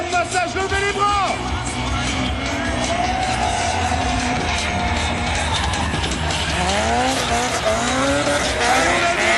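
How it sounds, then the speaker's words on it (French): Drift car, given as a Toyota AE86, sliding through a corner at a tuning show near Paris, tires squealing in long rising and falling wails over a loud, steady engine roar, with an announcer talking over the public address. "Enrico Sullivan qui prend un angle très prononcé avec son AE 490"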